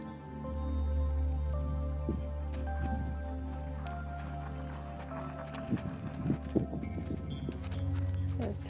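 Horse hooves clop slowly on the ground as the animal walks and comes to a halt, with a low background rumble.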